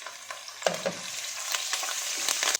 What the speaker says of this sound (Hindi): और लाइट ब्राउन होने तक हम इसे फ्राई करेंगे।